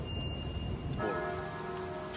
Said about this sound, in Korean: 종소리가 울리지? 학교 학교? 학교라 그런가 여기?